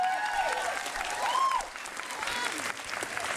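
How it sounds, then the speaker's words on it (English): A choir concert audience applauds the tenor section after their bow, steady moderate clapping at a distance with some sung or whistled tones drifting over it. "Sure, give them a round of applause."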